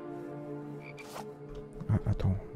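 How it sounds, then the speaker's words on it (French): Frogs croak in the survival game The Infected, a few rhythmic low croaks building near the end of the short stretch over soft ambient game sound. "la chasse à la grenouille, c'est plus simple"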